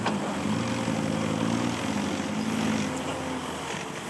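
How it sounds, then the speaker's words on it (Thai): A Kubota M6040SU tractor engine idles steadily with a low, even hum, close and constant for a few seconds. "รถไถครับ ตัวนี้คูโบต้าครับ"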